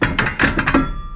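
Several sharp hammer whacks strike the rear brake drum of a 2010 Toyota Camry, loosening it from corrosion; about six quick, close, loud blows in an irregular cluster, then a lingering metallic ring.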